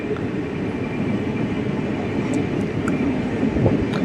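GD Express train pulling away from Chirala station, a continuous close rumble of rolling wheels and carriages with faint high clicks near the end.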